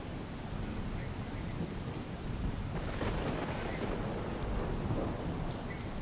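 Heavy rain pours steadily in Junagadh, Gujarat, with a dense hiss over a deep roll of thunder building in the middle; a constant, loud, close downpour with no voices.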